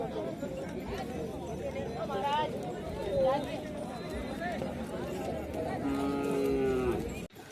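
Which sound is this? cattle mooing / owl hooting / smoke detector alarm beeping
cattle mooing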